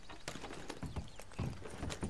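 Horse hooves clip-clop at a steady walking pace in a video game, moderately close, with no speech over them.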